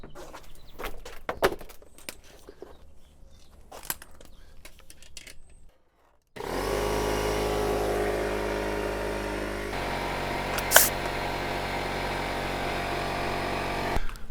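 An air compressor starts up in a workshop and runs loud and steady, a continuous broadband mechanical roar after lighter clattering and handling noises, with a brief hiss spike partway through.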